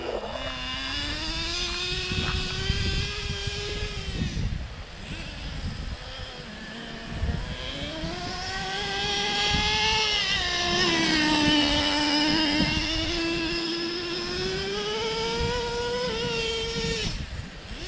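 A Traxxas Revo 3.3 nitro RC truck engine idling and warming up, a steady buzzy drone that rises and falls in pitch with small throttle blips, continuous and fairly close.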